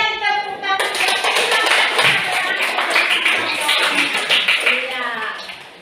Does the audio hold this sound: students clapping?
yes